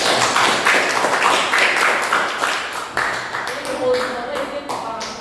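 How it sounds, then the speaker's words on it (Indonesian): A crowd claps in quick, scattered applause that gradually thins out, with voices mixed in. "Tepuk tangan untuk ketua"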